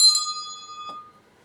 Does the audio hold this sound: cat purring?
no